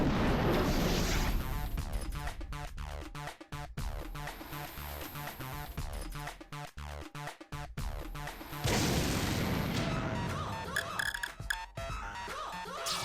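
A tank cannon in the video game War of the Human Tanks fires repeatedly, heavy booming blasts rolling into one another over about thirteen seconds, loud and continuous with brief gaps between shots.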